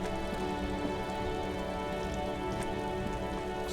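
Steady rain from the video game Disco Elysium pours down in a traffic jam, a dense continuous patter of drops on surfaces that stays loud and even throughout, with no voices.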